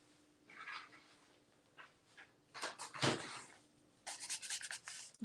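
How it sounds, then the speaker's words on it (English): Hand rubbing of paper laid on a fresh gelli print, heard as several short dry scuffing strokes close by, with a quiet pause between bursts and a brisker run of rubs near the end. "Let's give that a little rub."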